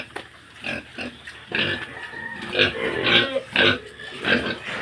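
Pig grunts and snorts from a farm pig, several irregular bursts close by, moderately loud with snuffling between them and no clear talk.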